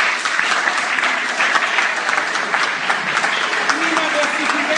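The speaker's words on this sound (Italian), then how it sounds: "A 2 punti di Natale Francesco, un bel applauso." Steady applause from an audience at an award announcement in Morro d'Oro, filling the whole stretch at even volume, with faint voices and laughter mixed underneath.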